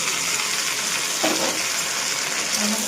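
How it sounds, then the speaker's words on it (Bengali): Ginger-garlic paste and green chilli paste frying in a pan while mutton is being cooked, producing a continuous close, even sizzle with a brief scrape partway through. "এবার দিয়ে দিচ্ছি আদা রসুন পেস্ট করা আর কাঁচা লঙ্কা পেস্ট করা দিয়ে দিলাম"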